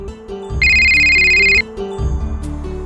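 A phone ringtone sounds in a Telugu domestic scene: a bright, steady electronic tone rings loudly for about a second over soft background music, then cuts off.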